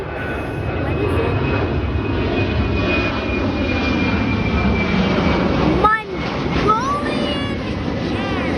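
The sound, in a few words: Mongolian Airlines plane passing at night, Hong Kong airport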